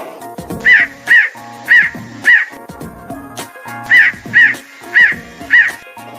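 A crow caws repeatedly, four harsh calls, a short pause, then four more, loud and close against a quiet background.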